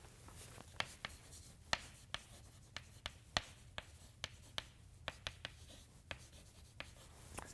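Handwritten equations being put down on a surface, a dry tapping-and-scratching run of stroke sounds with sharp, irregular clicks, close and fairly quiet, with no talking.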